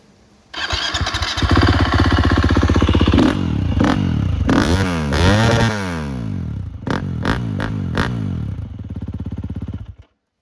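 A 2014 KTM SXF 250 motocross bike fires up and idles loudly nearby, with several sharp throttle blips rising and falling before the engine cuts off abruptly.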